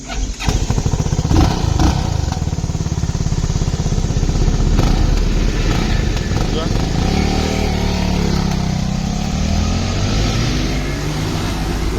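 A 390 motorcycle's engine runs loud and close on the road, a continuous throbbing drone with a few revving swells, while a voice talks over it.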